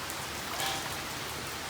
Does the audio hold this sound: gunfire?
no